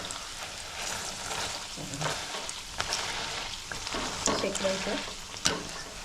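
Fresh-coconut puris frying in hot oil give a steady, close crackling sizzle with light stirring and occasional sharper pops, with no talk over it.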